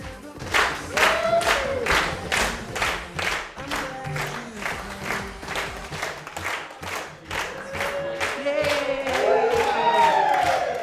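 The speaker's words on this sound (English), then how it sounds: "We can clap them in." A church congregation clapping in rhythm to welcome children in, steady evenly spaced claps with voices and cheering mixed in, lasting throughout and growing livelier toward the end.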